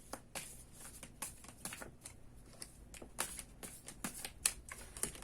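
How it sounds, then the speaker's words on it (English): Tarot cards are shuffled by hand in a quiet room, a series of soft, crisp riffling and tapping bursts that recur irregularly throughout, close and faint with no talking. "So let's keep giving your cards a good shuffle, and we will find out what is going on with you."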